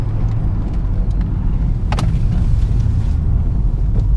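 An Opel Astra H 1.6 LPG GTC coupe accelerates under hard throttle, a steady low engine drone heard from inside the car with a brief sharp knock midway.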